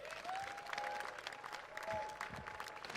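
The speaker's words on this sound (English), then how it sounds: "a big round of applause to all of the competitors" Audience clapping for firefighter challenge competitors, a steady, fairly quiet round of applause lasting a few seconds with brief whistle-like tones over it.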